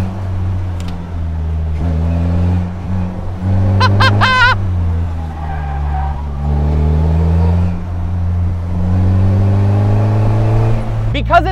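Lightweight car with a manual gearbox accelerating on a road in Maui, Hawaii, its mid-pitched engine note climbing through the revs and dropping at gear changes, close and steady throughout, with brief voice sounds over it.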